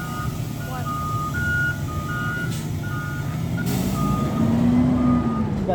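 A heavy truck reverses with steady, evenly spaced beeping warning tones over a loud rumbling engine, ending with a rising engine swell; no speech.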